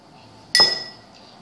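Sugar spooned into a cup while sweetening a baby's porridge, heard as a single sharp clink of a spoon against glass or ceramic, followed by a short ringing decay.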